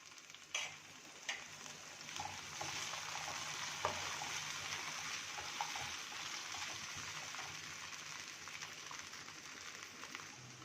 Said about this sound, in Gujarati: એ તેલમાં આપણે ટમેટાને ફ્રાય કરી લેશું